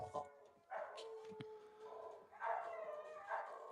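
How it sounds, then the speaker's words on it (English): Pet dogs howl in drawn-out, wavering cries that rise and fall in several overlapping waves, heard quietly at a moderate distance. "my dogs are howling"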